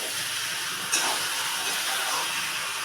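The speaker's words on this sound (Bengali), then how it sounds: "মশলা কষানো হচ্ছে" Spices sizzling while being sautéed in oil in a pan for a jackfruit curry, a steady close hiss and crackle with no talk.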